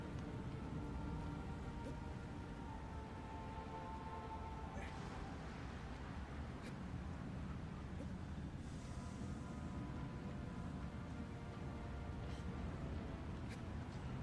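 Rain falls in the video game Shadow of the Colossus as a soft, continuous hiss, quiet and even, with faint tonal game sounds and occasional light taps layered over it.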